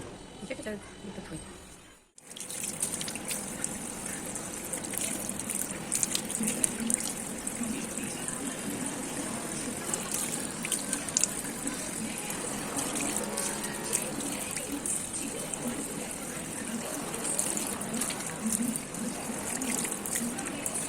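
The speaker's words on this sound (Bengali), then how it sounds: "আমি ভাবলাম মুখটা ধুয়ে ফেলি" Tap water runs steadily into a sink while someone rinses their face with plain water, a continuous splashing gush after a brief silence at the start.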